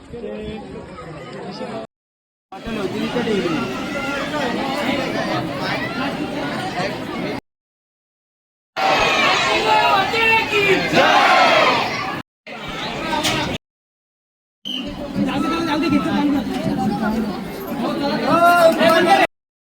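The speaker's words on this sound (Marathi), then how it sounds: "जाम वाईट गर्दी बेकार सगळा" Dense crowd of devotees at a temple, a steady murmur of many voices and chatter with children among them, broken by several brief silent gaps, with nearby talk mixed in.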